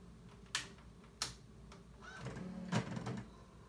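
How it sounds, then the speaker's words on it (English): A vintage Brother word processor switching on gives a few sharp clicks and clunks followed by a brief mechanical whir, quiet and close, with no talking. "So, believe the word processor is on. Should make noises."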